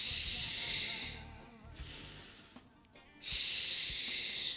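Slow, close breaths during a yoga session, long airy exhales with a quieter gap in the middle before another strong breath out.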